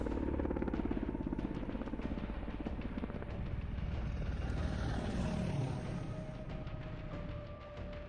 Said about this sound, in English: So we get a few attack choppers at the start of this one.